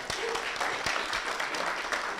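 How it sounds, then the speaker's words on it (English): Audience applause welcoming competitors at a university Three Minute Thesis finals, a steady wash of clapping from a crowd in a hall, even and sustained throughout. "Give a big round of applause to welcome all of our competitors."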